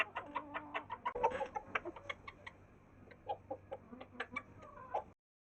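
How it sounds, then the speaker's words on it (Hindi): A rooster calls to his brown and white hens in a backyard coop, giving a rapid series of short clucking notes close by, alone without talk. "अब ये बुला रहा है, ब्राउन मुर्गी को तो बुलाता ही है, अब वो वाइट को भी बुला रहा है।"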